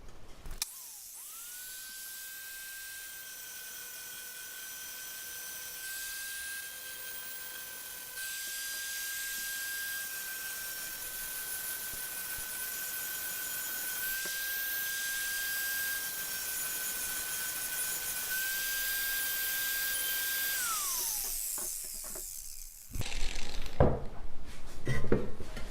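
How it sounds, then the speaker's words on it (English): A power grinder whines steadily on a metal motorcycle skid plate for a Triumph Tiger Rally Raid, a high continuous tone lasting about twenty seconds before spinning down, followed by clattering handling noise. "So I'm gonna try to grind this down just a little bit, just take some off"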